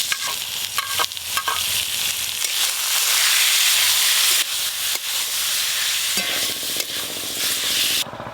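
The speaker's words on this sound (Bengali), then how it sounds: "এইভাবে নেড়ে নেড়ে আমি একটু ঝরঝরে করে নেব" Spiced chicken for chicken rolls frying in a pan, a loud continuous sizzle with the scrape and clatter of steady stirring, occasional sharp knocks against the pan, and no voices.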